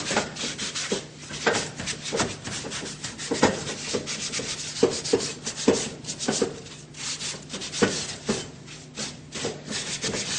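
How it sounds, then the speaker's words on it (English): A yellow and green sponge scrubs the top of a Bluestar gas range, giving a close, rhythmic rubbing and scraping with uneven strokes and small knocks, with no voices. "Give it a rub down, straight on the top first, and then inside the bowls"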